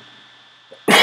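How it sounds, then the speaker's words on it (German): One sudden, loud cough bursts out close to the microphone at the very end, after a near-silent stretch with a faint room hum, at a party in Berlin. "jetzt kommt wieder Husten, ne?"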